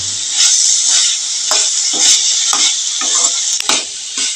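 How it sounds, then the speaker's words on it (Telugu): Pieces of cleaned dry fish sizzle and fry in a pan with chilli powder and spices for a brinjal dry fish curry, a steady close hiss broken by repeated stirring scrapes at a fairly even rhythm. "ముందుగా శుభ్రం చేసి పెట్టుకున్న చేప ముక్కలు వేసుకుందామండి"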